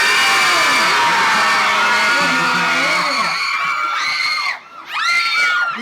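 A large mini-concert crowd screams and shrieks loudly and continuously, high-pitched and sustained, briefly dipping before another surge of screaming.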